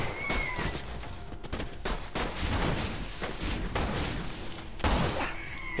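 Gunfire in a Borderlands 2 firefight, several sharp shots over busy combat noise, with a louder crack near the end.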